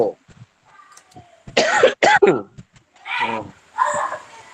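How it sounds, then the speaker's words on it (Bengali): A man coughs several times in quick throaty bursts during a spoken religious lesson, loud and close, with brief throat clearing and pauses between. "কাশি এসে গেছে আর কি"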